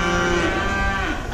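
Cattle in a handling chute let out one loud, close, drawn-out moo that fills the whole moment.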